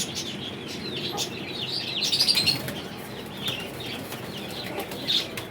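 Pigeons flap their wings in bursts, with soft calls and chirps underneath, at moderate distance and fairly quiet.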